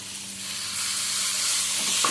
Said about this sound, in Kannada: ಇದು ತಣ್ಣಗಾಗಲಿ, ಚೆನ್ನಾಗಿ ಫ್ರೈ ಆಗಿದೆ